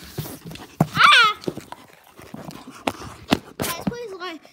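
Dog making short whimpering and yelping sounds amid scuffling and thumps, close by, with a person talking intermittently.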